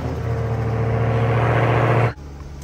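A Chrysler 300 car engine starts and runs at a steady, loud idle hum close by for about two seconds, then cuts off abruptly.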